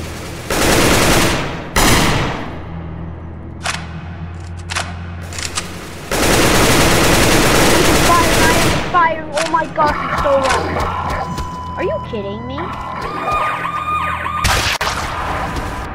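Gunfire from the Roblox game The Stalker comes in loud bursts of rapid shots, with separate single cracks between them and assorted game tones and chirps filling the gaps.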